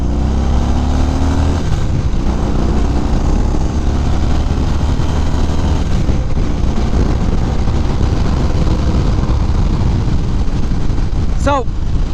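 Engine of a 2018 Harley-Davidson CVO Limited motorcycle on a road test ride: a loud, steady low drone with wind rush that never lets up, and a voice talking over it.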